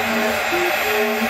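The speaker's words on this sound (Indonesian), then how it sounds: "Mesin CNC sedang mengerjakan multibore untuk komponen support top table." A CNC machine multi-bores holes in a teak support for a live-edge dining table, a steady high whining drone with shifting tonal hums, continuous and fairly loud.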